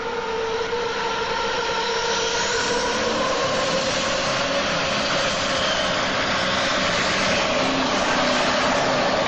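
A loud, continuous pulling tractor engine roar under heavy load at a 1988 tractor pull, steady and close throughout with no pauses.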